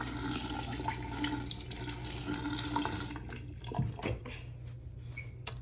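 Tap water running steadily into a bathroom sink, a continuous close splashing rush with the flow changing partway through.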